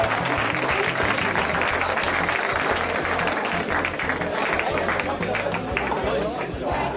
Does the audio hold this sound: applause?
yes